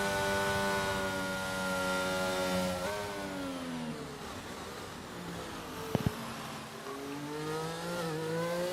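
F1 race car engine at the Miami GP in a racing video game, a loud continuous whining drone with rising and falling pitch as the car gets on the power gently on a warm-up, plus a brief sharp click near the end.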